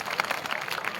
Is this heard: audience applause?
yes